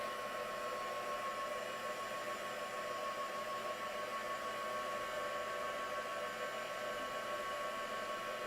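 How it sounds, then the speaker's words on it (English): A hair dryer blows continuously and evenly at close range while drying colour on a craft project, with no breaks and no voices over it. "I'm going to dry this off now, and we'll see what kind of colour we get."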